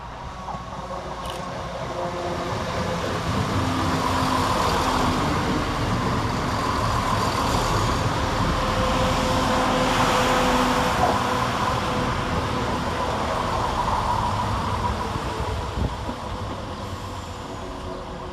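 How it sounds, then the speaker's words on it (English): Chiltern Railways class 168 diesel unit 168001 arrives at Birmingham Moor Street station on a London Marylebone to Birmingham Snow Hill service, a steady rumble that swells, holds and slowly eases, with no talk. "Next in to arrive is 168001 with the 12:36 Chiltern Railway service of London Marylebone to Birmingham Snow Hill"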